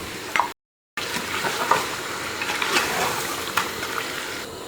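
Curd poured into a hot pan of tomatoes and spices for Thalappakatti-style biryani, a steady close sizzle and frying hiss with soft stirring and liquid sounds throughout, interrupted by a brief moment of silence.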